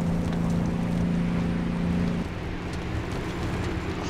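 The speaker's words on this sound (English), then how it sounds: "The storm just gets worse." Storm wind in the trucking game American Truck Simulator, driving on the Dalton, roars as a steady, loud broadband rush with a low engine drone underneath for the first half, and no one speaks.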